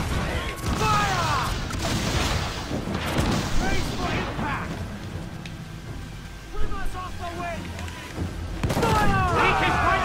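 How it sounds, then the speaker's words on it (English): Mortar and cannon fire booms out across a naval battle in Assassin's Creed 4, with heavy explosions and rumbling blasts under constant talking, plus a sharp burst near the middle and louder fire toward the end. "I need to go get out of the mortar fire"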